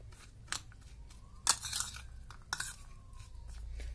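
Black chickpea snack ingredients are stirred together in a bowl, giving a few sharp clinks and crunchy scrapes that stand alone in a quiet kitchen.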